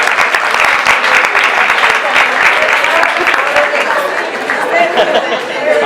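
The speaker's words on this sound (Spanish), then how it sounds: "correcto. Un aplauso." Sustained, dense applause from a classroom or lecture audience in Colombia, steady and loud for several seconds, with some chatter mixed in.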